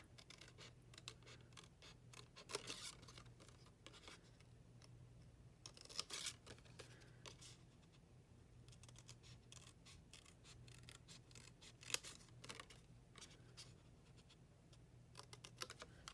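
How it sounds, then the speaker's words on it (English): Quiet, steady snipping and scratching of scissors cutting out a paper birthday label for a card, with small irregular clicks over a low background hum. "I'm just going to cut out birthday with my scissors"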